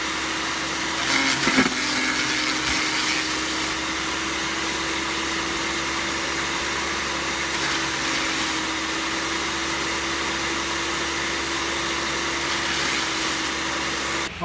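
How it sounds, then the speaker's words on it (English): A cheap electric garden shredder runs steadily with a loud, even motor whine and whir while leafy hedge trimmings are fed in, a brief rattle early on, otherwise constant and close throughout. "So I'll gather some of this stuff up and we'll go run that through the shredder as well."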